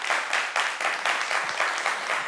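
Audience applauding during a televised family Christmas game show, steady dense clapping from a crowd that swells in waves, fairly loud and without voices.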